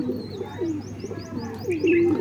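A Giribaz pigeon coos repeatedly close by, low throaty calls rising and falling, with faint chirps from other birds in the background.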